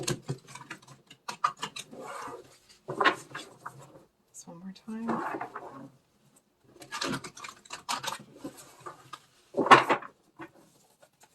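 Crisp bursts of tarot cards being shuffled come in several rapid runs, close and fairly loud, with a person speaking briefly between them.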